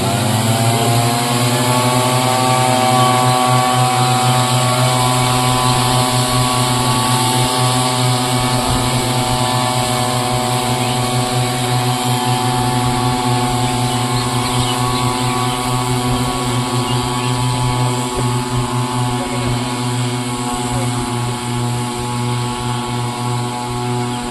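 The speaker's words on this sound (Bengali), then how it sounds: "কেমন করে পাতা কাটে মেশিন দিয়ে সেটা তোমরা একবার দেখো" A motorized machine cutting tea leaves gives a loud, steady engine drone with a strong buzzing pitch that holds close and continuous the whole time.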